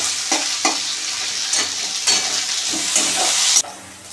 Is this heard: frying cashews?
yes